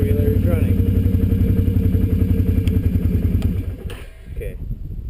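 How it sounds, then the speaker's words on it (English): A four-wheeler ATV engine idles just after starting, a steady low, throbbing rumble that carries on with a person talking over it, then drops back in level near the end. "Now your four-wheeler is running."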